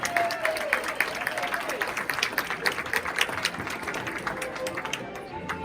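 An audience at a hall of fame induction ceremony in Eastern Iowa claps for Mike Price, a steady patter of applause from a moderate crowd throughout, with a bit of chatter mixed in.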